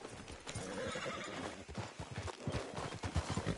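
Hooves clip-clop in an uneven, stamping rhythm from a restless horse in Red Dead Redemption 2, close and fairly loud, with a whinny and no talk over it.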